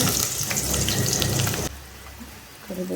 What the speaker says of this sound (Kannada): ಈಗ ಒಗ್ಗರಣೆ ಕೊಡೋಣ ಮೊದಲು ನೋಡ್ರಿ ಸಾಸಿವೆ ಹಾಕ್ಕೊಂಡಿನಿ ನೆಕ್ಸ್ಟ್ ಜೀರಿಗೆ